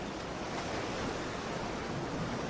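Ocean surf rushes in a continuous, broad wash of breaking waves, steady and moderately loud with no voices.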